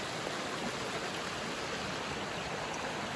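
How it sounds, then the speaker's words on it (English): Water pours steadily through an abandoned 19th-century stone mill in Burrillville, Rhode Island, a constant rushing wash like a stream or small waterfall, moderately distant with no voices. "you can still see that water is just pouring through"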